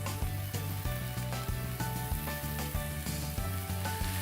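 Carrots and onions sautéing in a pan give a steady close sizzle with occasional stirring scrapes and crackles, no voices.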